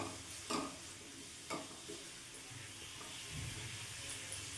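Onion, capsicum, tomato and green chilli frying with spices in a pan, a quiet sizzle under a few soft stirring scrapes early on, then a low steady hiss.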